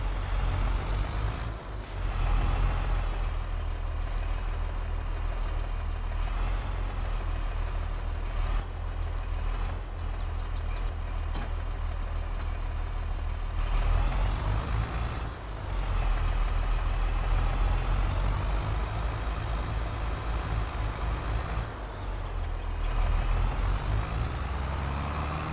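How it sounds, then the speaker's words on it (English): A big diesel tractor engine in the video game Farming Simulator 22 rumbles steadily and loudly throughout, a deep continuous drone with small shifts and a brief hiss near the start. "It sounds like a big diesel engine."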